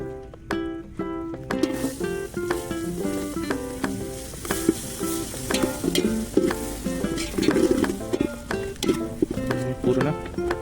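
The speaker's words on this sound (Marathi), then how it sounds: "त्यात आता कांदा टाकणार आहे आपण." Onion sizzling and frying in melted butter with whole spices for butter chicken, a steady close sizzle with stirring clinks and scrapes throughout.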